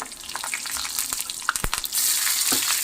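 Chilies and tempering spices fry on low heat in oil in an iron pan, crackling and popping in scattered bursts before a steadier sizzle takes over.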